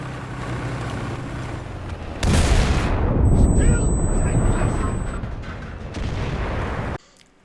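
A sudden loud grenade blast in the video game Enlisted hits, and its rumbling roar lingers for several seconds. A second, smaller burst follows shortly after, then the sound cuts off.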